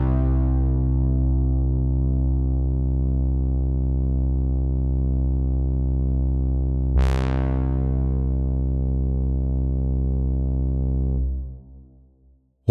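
An out-of-phase bass example plays as a sustained low synth tone with rich harmonics, a sharp swept blip near the middle, then cutting off abruptly near the end.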